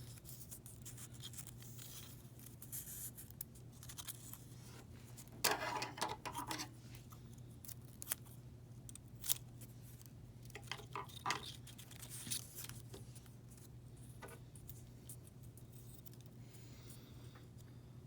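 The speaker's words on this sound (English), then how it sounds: "Next, we're going to take our white and we're going to cut it into thirds." Cutting a strip of white quilling paper into thirds with scissors: a few faint, brief snips and rustles spread across a quiet background with a steady low hum.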